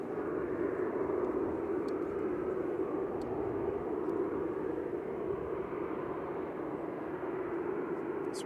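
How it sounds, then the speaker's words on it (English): Norwegian Boeing 737-800 lining up on the runway at Manchester Airport, a steady broad engine roar heard from a distance that stays even throughout, with faint ticks over it. "Norwegian lining up, heading back to Stavanger, 737-800 LN-NGZ"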